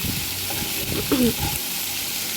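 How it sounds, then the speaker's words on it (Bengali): Prawns sizzling in hot oil with browned onions for a prawn and dhenki greens dish, a steady close frying crackle with a brief stir in the middle. "পেঁয়াজটা লালচে লালচে হয়ে যাওয়ার পরে আমি চিংড়ি মাছটা দিলাম"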